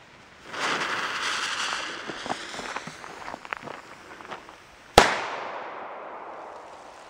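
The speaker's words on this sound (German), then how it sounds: "jetzt haben wir hier den großen schwarzen Kanonenschlag" A large black cannon banger firework from a WECO Bombastica set: a fuse hisses and sputters for several seconds, then a single sharp, loud bang that echoes away outdoors.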